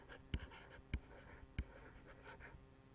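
Pen or marker marking a pyramid diagram on a board for a speed, distance and time lesson, three short distinct taps or strokes at an even pace, faint and close, with no talking.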